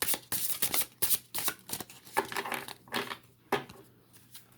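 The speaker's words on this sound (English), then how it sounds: "I'm shuffling kind of on screen" Rapid riffling card shuffles, crisp and close, in several quick bursts with short pauses between them, no voices.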